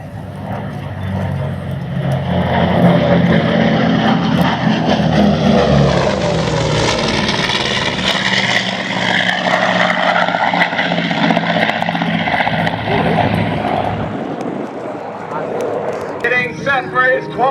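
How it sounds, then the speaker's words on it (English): A Grumman Tigercat fighter with two 2,100 horsepower Pratt & Whitney R-2800 Wasp radial engines dives past at an air show, a loud sustained propeller roar that swells and shifts in pitch, with a crowd and voices audible beneath it. "Camera's ready as the Tiger Cat dives in from the right."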